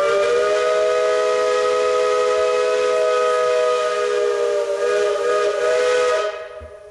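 A loud steam whistle holds one long, steady hissing blast for about six seconds in Echo Valley, a former mining area, then cuts off abruptly, with no voices.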